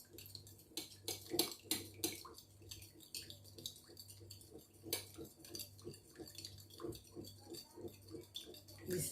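A spoon stirring homemade face serum in a small bowl, repeated close clinks and scrapes of metal against the bowl in a steady, rhythmic pattern with a faint wet undertone; no talking.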